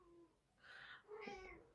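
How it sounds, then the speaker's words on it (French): A young female house cat meows twice indoors, two short, faint calls a moment apart against quiet background. "j'ai la minette qui se met à miauler"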